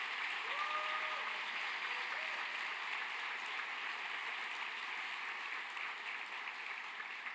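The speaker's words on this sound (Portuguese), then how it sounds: "Por favor, dê um forte aplauso a ele." Steady applause from a large church congregation, a dense wash of clapping that holds at an even level throughout without pause.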